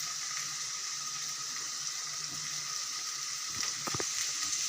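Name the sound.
chopped tomatoes and salt frying in a pan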